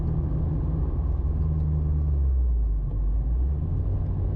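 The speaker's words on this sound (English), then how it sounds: "You're about to see an old Corvette Camaro duo go by." An old Corvette and Camaro driving by on a Texas farm-to-market road, a deep steady engine rumble that swells slightly mid-clip, heard close without any talking.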